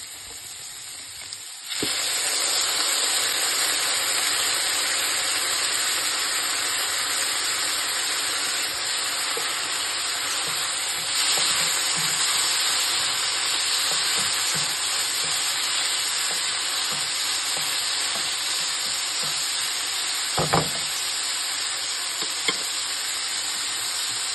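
Vegetables fry in a pan for a Karnataka bisibele bath, a steady loud sizzle and hiss running throughout with occasional stirring clinks, no talking.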